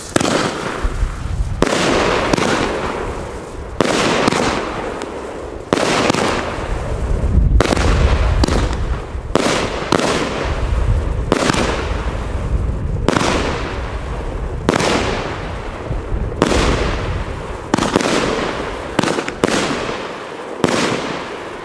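Argento Opal firework battery, 13 shots of 30 mm shells: a steady series of loud, sharp launch thumps followed by crackling bursts, spaced about a second or two apart over twenty seconds, close and without talk.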